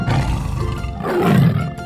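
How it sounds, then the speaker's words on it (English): A tiger in a 3D animal video game lets out a loud, rumbling roar that swells toward the end, close and unaccompanied by speech. "tiger,"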